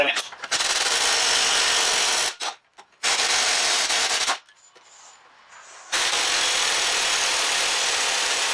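Ratchet wrench working a bracket bolt on a Renault Master van, close, loud bursts of rapid clicking broken by short pauses, with one quieter stretch in the middle.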